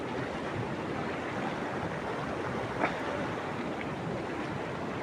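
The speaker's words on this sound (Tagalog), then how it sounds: "nakarating din ako rito sa Badikdik Sulphur Spring. Tingnan mo yan oh, lakas." Steady broadband rush of water flowing at Badekdek sulfur spring, a continuous loud churning wash with a faint brief splash near the middle, no voices.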